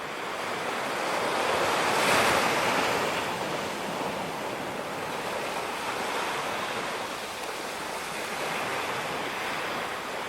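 Broad, steady surf of ocean waves washing onto a beach at sunset, a continuous roar that swells slightly around two seconds and holds at an even, fairly loud level with some wind noise throughout.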